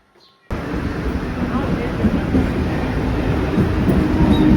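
A steady, loud rumble of a moving train fills the clip after a brief quiet start, a constant rolling roar with no clear voices over it.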